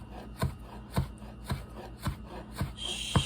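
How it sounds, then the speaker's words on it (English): A very sharp knife shaves fresh herbs thinly on a cutting board for a garden tomato salad, giving six evenly spaced soft chopping taps, close and quiet, with no talk. "shave it as thin as possible, just like that"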